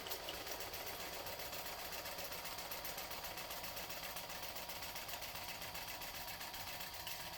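Sewing machine top stitching, a fast steady whirring chatter of needle strokes, close and constant but fairly quiet, with no voices.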